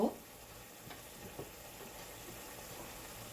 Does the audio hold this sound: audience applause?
no